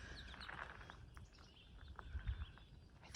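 Small yellow finches call at an outdoor bird sanctuary, with faint, scattered high chirps over a quiet, rustling background.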